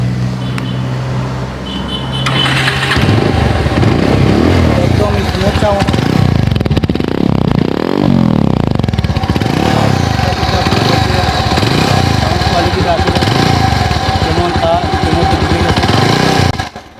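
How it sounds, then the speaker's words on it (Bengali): A Pulsar 150 motorcycle engine starts up and runs loudly nearby, revving repeatedly in rough surges before cutting off at the end. "আমরা এখন আপনাদেরকে আমাদের বাইকের সাউন্ড কোয়ালিটিটা যদি একটু শোনাই"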